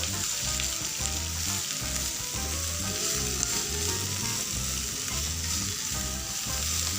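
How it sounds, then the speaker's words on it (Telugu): Ponnaganti greens frying in oil over a medium flame, a dense, steady sizzle with a rhythmic low thumping of stirring underneath, close and continuous, no speech. "ఇలా ఆయిల్లోనే ఆకుని ఫ్రై చేసుకోండి"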